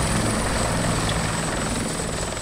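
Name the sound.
helicopter in video game Arma 2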